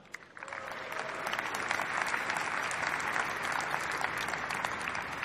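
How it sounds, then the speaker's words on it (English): Conference keynote audience at the ASUG Annual Conference bursting into a round of applause, starting abruptly and swelling into dense, sustained clapping from a large crowd that stays loud and even. "let's start this afternoon by giving ourselves a round of applause for getting it done"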